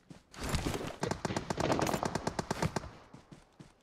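Gunfire in the PUBG Mobile video game, a dense series of rapid automatic shots in several bursts, loud and close.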